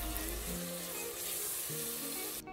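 Oil sizzles steadily in a pan as a large onion fries, a continuous crackling hiss with a few clinks of stirring, close and fairly loud, no voices.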